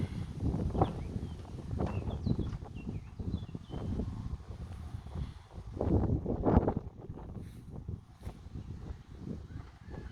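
Wind gusting outdoors near an apiary in a steady low rush against the microphone, swelling louder for a few seconds midway before easing back.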